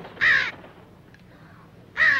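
A raven gives two loud, harsh caws close by, separated by a short quiet pause.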